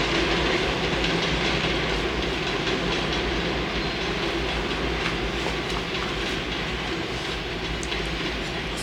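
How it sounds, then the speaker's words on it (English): A train rolls past close by with a loud, steady rumble and rhythmic clatter of wheels on rails, continuous throughout and without voices. "There goes the train"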